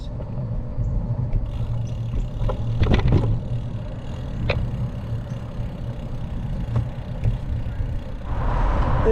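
Steady road traffic rumbles past a cyclist, with car engines droning at mid distance and a couple of louder vehicles sweeping by, with no talking.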